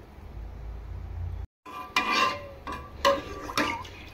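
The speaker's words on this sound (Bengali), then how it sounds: "এইভাবে অনবরত নাড়তে হবে, আর টকবক করে ফুটতে দিতে হবে না দুধটা।" Milk stirred continuously in a pot while making mozzarella cheese, a low hum cut by a brief gap, then a few clear scraping and clinking strokes of a spoon against the pot, near and moderately loud.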